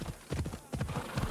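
Horse hooves in Assassin's Creed Odyssey clop in a quick uneven rhythm, a short run of close, muffled thuds with a slight pause midway.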